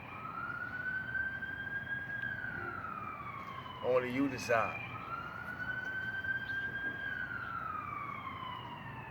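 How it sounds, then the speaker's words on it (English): A wailing emergency vehicle siren sweeps steadily rising and falling throughout as it passes, fairly distant, with a brief burst of speech partway through. "We got life happening. Y'all pardon the sirens."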